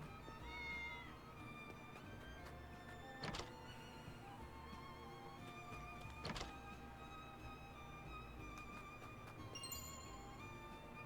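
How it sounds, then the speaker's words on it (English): In Triangle Strategy, a cat meows repeatedly over a steady game music bed. Two sharper thumps stand out near the start and middle, and the meows sit close and clear. "Who's a good kitty?"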